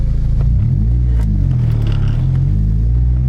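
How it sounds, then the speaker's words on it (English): An Acura RSX Type S engine with a Kpro V4 tune and a faulty throttle position sensor idles with a steady low rumble, its pitch wavering slightly as it runs, close and continuous throughout. "the car's gonna make some weird noises"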